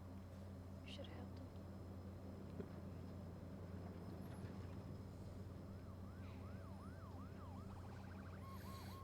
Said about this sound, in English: Tommy, you're supposed to pull over when an ambulance is speeding by.